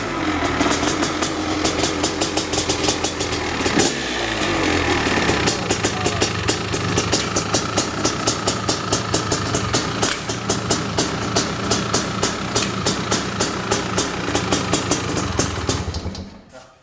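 A 2005 Honda CR500R AF two-stroke dirt bike engine running after a kick start, loud and close, with a fast rhythmic popping idle, revving up and settling before cutting off at the end.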